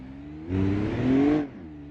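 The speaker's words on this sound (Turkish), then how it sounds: "Bak bu arabanın da sesi çok fazla" A Volvo car engine in the video game BeamNG.drive revs up briefly for about a second, a mid-pitched rising drone that swells and fades back to a low idle.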